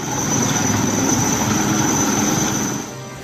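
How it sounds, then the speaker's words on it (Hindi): A rescue helicopter flies during monsoon flood rescues in Rajasthan, a loud, steady engine and rotor roar that stays close throughout and then eases off slightly at the end, with no voices. "हेलीकॉप्टर की मदद से फंसे हुए लोगों को बाहर निकाला गया।"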